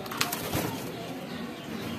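Racing pigeons cooing softly amid a brief flutter of wings early on, with steady outdoor background noise.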